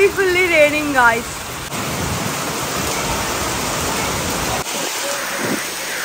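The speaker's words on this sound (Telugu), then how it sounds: "ఈ ఫామ్ హౌస్ లో వర్షం పడుతుంటే వేరే లెవెల్లో ఉంది అసలు" Steady broadband rain pours down at a farm house, a dense even hiss that fills the whole clip after a brief burst of voice at the start.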